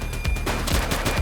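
Gunfire from a police shootout in The Precinct video game: a rapid string of loud, close shots cracking in quick succession for just over a second.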